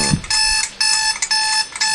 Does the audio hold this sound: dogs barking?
no